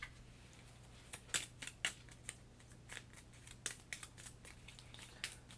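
Kingdom Death Monster board game cards being shuffled, a quiet run of brief papery riffles and snaps scattered irregularly over a low steady hum, with no talking.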